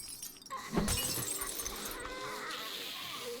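Glass shatters in the video game 7 Days to Die with one sharp crash. Tinkling debris and a lingering ringing rattle follow it, set against background game noise.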